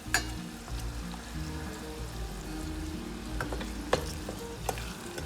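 Tomato and pepper paste stirred with garlic in a hot pan gives a steady close sizzle with the spoon scraping and knocking against the pan, and no one speaking.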